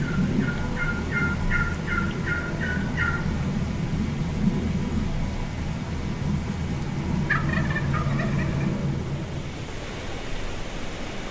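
Repeated bursts of wild Eastern turkey gobbling over steady outdoor noise in Oklahoma, one volley early and another later, at moderate distance with no talking.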